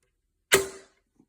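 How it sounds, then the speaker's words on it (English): A single sharp snap of a spring-powered Barrett airsoft sniper rifle shot, fired without its butt pad, rings with a brief metallic tail, followed by a faint click a moment later. "when it's cocked back and shoots, here's the sound without the butt pad on."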